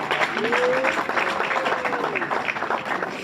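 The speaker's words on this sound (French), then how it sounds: "nous l'acclamons aussi très fort, très fort" A wedding audience applauds warmly, with dense clapping and a rising voice cheering over it, steady and close throughout.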